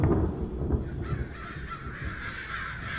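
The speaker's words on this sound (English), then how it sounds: "Oh, it's always birds." Crows cawing in the Sinister Edge VR horror game, several harsh caws close up at first, then fading into a low rumbling ambience.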